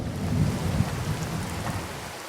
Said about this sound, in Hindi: बारिश में झम झम झम झम इतना प्यारा लगता है